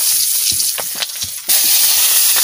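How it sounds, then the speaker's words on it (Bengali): Potatoes sizzling in hot oil for chicken pulao, a close, steady loud hiss that surges sharply midway as more pieces hit the pan, with small stirring clicks throughout. "তেল গরম হয়ে গেছে, আলু দিয়ে দাও।"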